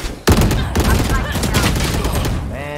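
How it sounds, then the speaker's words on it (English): Loud, dense burst of video game combat audio around a thrown flashbang grenade, a sharp onset followed by continuous gunfire and crackling effects, close and heavy, with a voice mixed in. "Flashbang."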